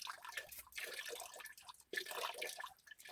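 Grey water drips from a 2014 heat pump circuit, a faint, sparse patter of drops falling at an uneven pace, quiet and close with no voices over it.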